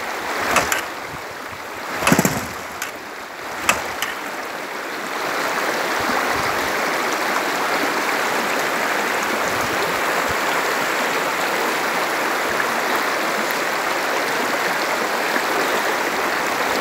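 River water rushes steadily during a motorcycle crossing of the Tanau River, a broad continuous flow with a few splashing bursts early on, then a loud, even roar that fills the rest of the stretch.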